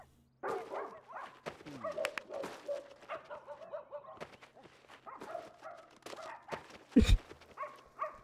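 A dog in The Sims 2 barks and yips in short, scattered bursts through quiet game sounds, fairly soft, with a sharp loud hit near the end.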